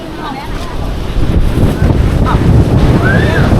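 Cold wind at below-freezing temperatures buffets the microphone in a steady, rushing roar that grows stronger partway through, while people talk nearby.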